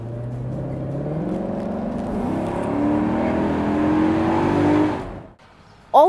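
A 2018 Maserati GranCabrio convertible engine revs and climbs steadily in pitch for several seconds, loud and close, then drops off sharply before another burst.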